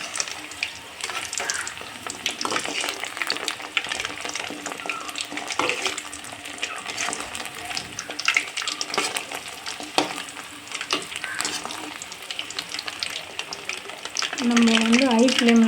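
Veg bonda frying in hot oil as pieces are turned, a steady crackling sizzle with scraping stir sounds throughout, growing slightly louder near the end.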